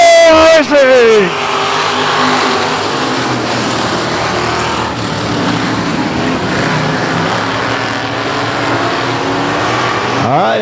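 Limited modified race cars roar around the oval at South Texas Speedway, a loud, continuous engine din that rises and falls as the pack circulates, with talk over the top.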